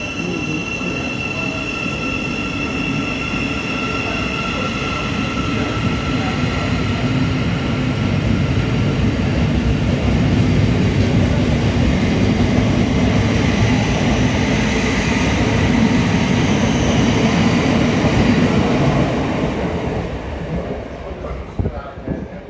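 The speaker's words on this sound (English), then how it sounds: "Passing platform 1 is going to be a pair of Great Northern Class 379s going from King's Lynn to London King's Cross" A pair of Great Northern electric trains bound from King's Lynn to London King's Cross runs through Hitchin station on the East Coast Main Line. A loud, sustained rumble of wheels and squealing builds over about twenty seconds, then fades.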